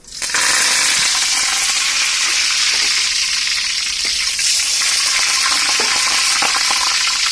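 Curry leaves hit hot oil in a pan and set off a loud, continuous sizzle and crackle that holds steady from start to finish, with scattered pops; nobody speaks.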